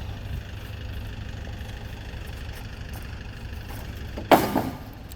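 A vehicle engine idles steadily at close range, then gives a brief louder clunk and surge as it is put in gear near the end, with no talk.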